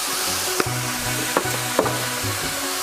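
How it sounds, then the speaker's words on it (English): Vietnamese fried rice being stirred in a hot pan, with a steady sizzle under a few sharp scrapes and clacks of the utensil against the pan, close and fairly loud, no talking. "Now you gotta make sure that you mix everything well together on this stage."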